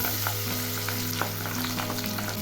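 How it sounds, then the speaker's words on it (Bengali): Pabda fish frying in hot mustard oil in a pan, a steady close sizzle with scattered crackles and pops throughout, no voices. "এখন আমি মাছগুলো ভেজে নিচ্ছি।"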